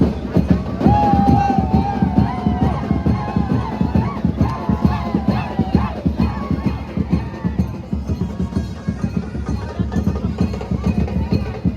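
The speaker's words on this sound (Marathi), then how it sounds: "गर्दी बघू शकता तुम्ही किती. घरी जायला सुद्धा जागा नाही." A large, dense crowd packs the Ekvira temple grounds, a continuous rumble of many voices with shouts and chanting rising over it, close and busy, with nearby talking mixed in throughout.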